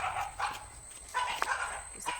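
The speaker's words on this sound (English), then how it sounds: "Who's that fucking dog?" A dog barks a few times in short, sharp bursts, moderately distant, during an outdoor walk along a canal path, with no talk over it.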